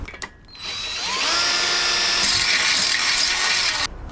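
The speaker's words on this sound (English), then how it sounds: "Before I cut it down, I'm going to drill the holes into it." A power drill whines steadily at high pitch, biting into a metal pipe as it drills holes, with a short start and stop at either end.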